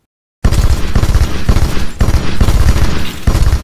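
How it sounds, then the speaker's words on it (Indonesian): Rapid bursts of AKM assault rifle fire in an action film fight scene, loud and close, with repeated volleys and brief pauses between them, no talking. "Hotung berhasil membunuh Fit dengan senjata AKM yang ia miliki"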